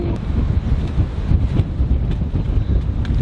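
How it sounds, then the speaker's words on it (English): Strong wind buffets the microphone on an exposed outdoor tower, a loud continuous low rumble with gusty surges and no voices. "it's really windy."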